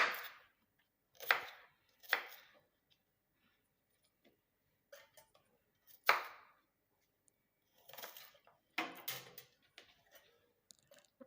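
A knife chops an onion into small pieces on a board in a home kitchen, about eight sharp, separate strokes at irregular intervals with quiet pauses between them.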